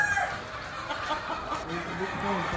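Hens cluck and murmur nearby in a steady busy chorus, with voices talking faintly in the background.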